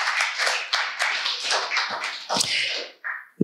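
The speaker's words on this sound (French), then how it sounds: "Acclamons le Seigneur Jésus" Church congregation clapping in a lively burst of applause, many hands striking in quick overlapping claps that fade out near the end.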